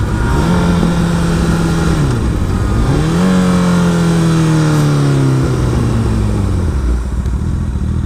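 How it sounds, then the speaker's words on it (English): A Honda CBR 1000RR Repsol sport bike revs while riding, its engine note climbing through gears, dropping and rising again, loud and close with steady wind noise and no talk. "it redlines at 15 something RPM, so I don't think I was wringing the guts out of my bike"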